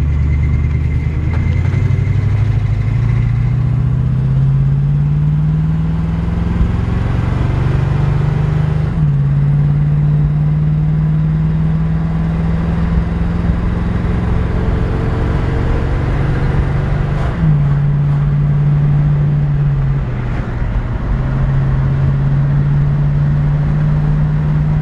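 A 1977 Chevrolet Camaro engine drones steadily while driving, rising in pitch through each gear before dropping at the shifts, loud and continuous with no talking.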